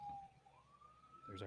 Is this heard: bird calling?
no